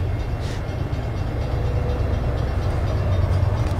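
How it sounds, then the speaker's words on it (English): A long coal train rolls past at Mount Hope, West Virginia, a loud steady low rumble of wagons with faint wheel clatter, close by and continuous without talk. "Here comes the train."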